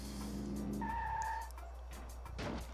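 Murray's van in the Sly Cooper video game revs and skids, a loud engine drone with a brief tire squeal in the middle and a second screech near the end.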